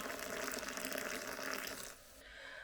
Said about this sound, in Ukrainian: У мене в чайнику залишився ще окріп, і я заливаю гриби сушені.